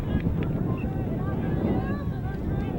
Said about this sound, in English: Very windy conditions